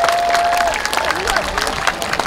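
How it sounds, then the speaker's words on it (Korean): An audience applauds and cheers at an outdoor prenatal music concert on Nodeul Island. A brief voice at the start gives way to a short, dense burst of clapping. "박수!"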